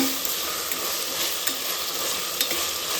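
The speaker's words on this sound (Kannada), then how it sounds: "ಸ್ವಲ್ಪ ಟೊಮೊಟೊ ಎಲ್ಲ ಸಾಫ್ಟ್ ಆಗಿರೋದು ಚೆನ್ನಾಗಿ ಥರ ಮಿಕ್ಸ್ ಮಾಡ್ಕೊಳ್ಳೋಣ" Tomato and ginger garlic paste stirred in a hot pan for egg biryani, a steady bright sizzle with soft scraping strokes of the spoon, close and continuous with no talk.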